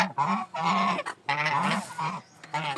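Large domestic geese honk loudly and close by in a series of about five harsh, nasal calls with brief gaps between them, and no talking.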